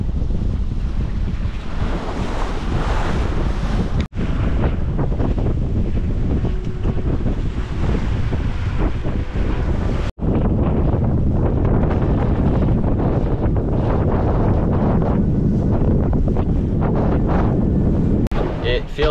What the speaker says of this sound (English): after doing a few hours of this beating in the wind like I am now